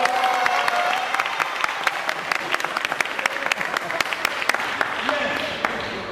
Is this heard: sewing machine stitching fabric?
no